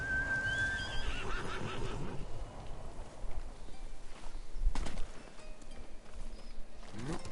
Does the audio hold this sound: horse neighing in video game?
yes